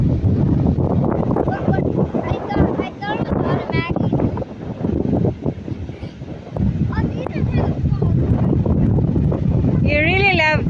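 Strong wind buffets the microphone on a wild beach of fine soft sand with big waves, a loud continuous roar and rumble, while people, including children, talk over it.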